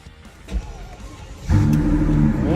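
A Hummer H2 with a 605-horsepower biturbo engine cranks briefly, then catches and settles into a loud, steady, deep rumble up close.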